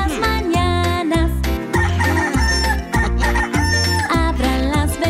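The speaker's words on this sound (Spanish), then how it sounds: "El gallo canta fuerte y alto todas las mañanas." A cartoon rooster crows loudly on a farm in a children's song, its repeated calls riding over bouncy, rhythmic music with a strong regular bass beat.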